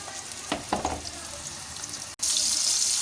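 Marinated egg-coated chicken roll pieces hiss and crackle as they go into hot oil in a small frying pan, a steady close sizzle that swells to a loud, bright spitting after a brief pause.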